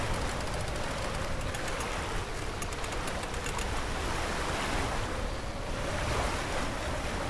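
Continuous wind and breaking ocean waves rush steadily around a sailing yacht in a Volvo Ocean Race leg from Lisbon to Cape Town on the Sailaway simulator game, loud and unbroken with no voices.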